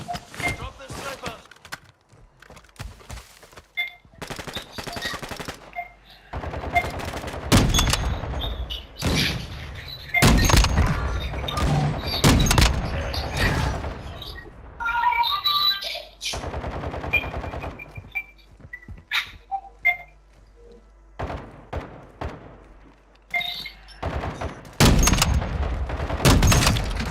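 Gunfire in a shooter video game: bursts of automatic fire and single cracking shots, loud and close, come in clusters with quieter gaps, mixed with clanking effects and a voice talking at times.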